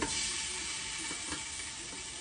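Turkey neck and pieces searing in olive oil in a pot give off a steady, bright sizzle, a continuous crackling hiss with faint pops, close and alone without talk.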